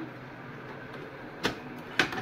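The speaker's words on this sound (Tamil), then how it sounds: "பிரிண்டர் இப்படி ஓப்பன் ஆகும்" An Evolis Primacy card printer's cover is released and opens. Two sharp mechanical clicks land about half a second apart over a quiet background hum.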